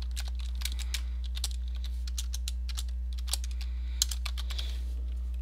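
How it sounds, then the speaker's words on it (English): A computer keyboard clicks under fast, uneven typing while a Minecraft game is played, the keystrokes close and crisp over a steady low hum. "sorry for the click of the keyboard."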